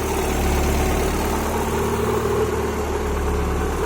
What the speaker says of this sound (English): These injectors are dumb loud.